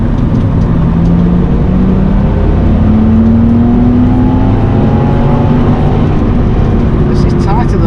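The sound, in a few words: car driving a lap of the Nürburgring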